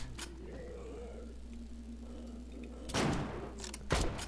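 A rifle fires in the video game You Are Empty, two sharp broadband bursts near the end of a quiet stretch holding a low steady hum, with the second shot brief and punchy.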